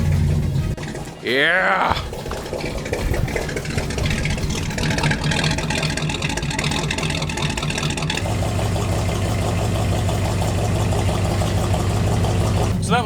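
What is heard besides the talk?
1950 Ford car engine starting and idling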